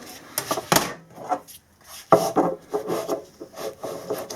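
Wood being rasped or filed to widen a groove in a wooden rack made to hold spanners, giving irregular scraping strokes with short pauses between bursts, close and moderately loud, with no talking.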